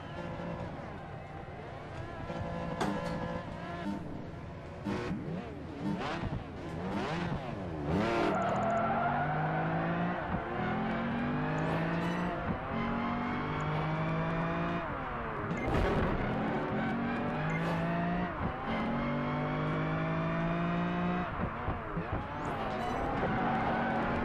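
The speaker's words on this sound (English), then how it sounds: "We got a street race." Race cars in a Project Gotham Racing 4 street race, engines revving and rising in pitch through gear changes with tire squeal, loud and continuous, with a voice talking over it.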